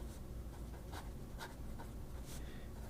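A Schaefer Legacy fountain pen with an inlaid medium nib that writes broad glides across paper, making faint, quiet scratchy strokes in a few short bursts with no talking.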